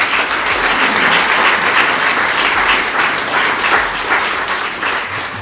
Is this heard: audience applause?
yes